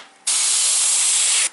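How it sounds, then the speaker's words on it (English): An airbrush sprays silver paint onto a 3D printed figure in a single steady, close hiss lasting just over a second, starting and stopping sharply. "a little bit of silver overspray like onto his suit"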